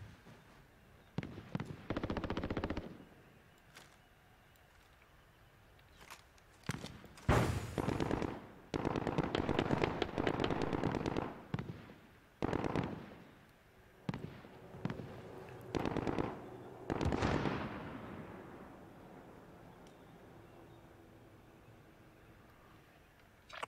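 Gunfire in the video game Call of Duty Warzone: loud bursts of automatic weapon fire in rapid clusters, separated by short quiet gaps, with no talking.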